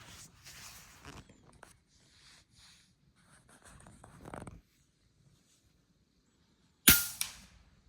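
An FX airgun fires a single sharp crack at a small target at a shooting range, loud and abrupt after several seconds of quiet handling noises.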